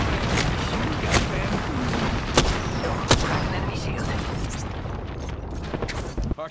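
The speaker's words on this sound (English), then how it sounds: "Airstrike." Heavy airstrike explosions rumble and boom through a fight in Apex Legends, with sharp blasts standing out near 2.4 and 3.1 seconds over a dense, continuous roar of gunfire and impacts, loud and close throughout.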